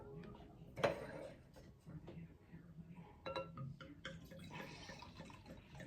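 Liquor poured into a glass during a date night at a liquor store, a soft trickling splash with a light clink, heard under people talking nearby.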